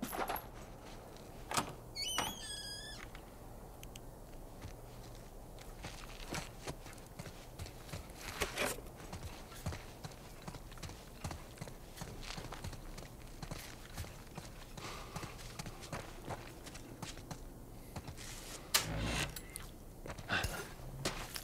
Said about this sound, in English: It sounds like I'm hearing footsteps.